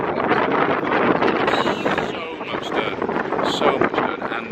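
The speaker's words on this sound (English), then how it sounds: "It is a bit windy, isn't it?" Strong wind buffets the microphone in rough, continuous gusts, with faint voices half-buried beneath the rumble.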